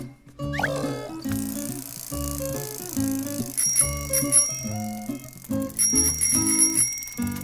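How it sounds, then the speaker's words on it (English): A bicycle bell rings in bright, repeated dings over a steady backing of children's music. "Bicycle."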